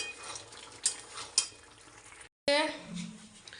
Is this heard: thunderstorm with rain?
no